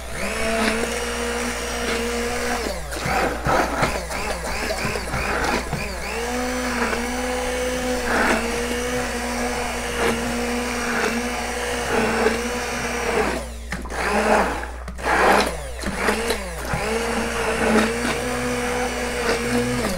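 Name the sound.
immersion blender blending sauce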